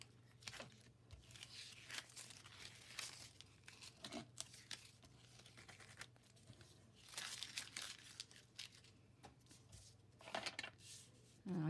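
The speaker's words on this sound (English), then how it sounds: "And then you remove the tape." Stencil tape peeled off paper in a quiet room, with soft crinkling and tearing rips in short irregular bursts over a low steady hum, very faint and close.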